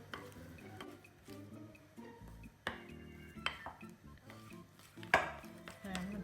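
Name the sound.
stirring chocolate cake mixture in a bowl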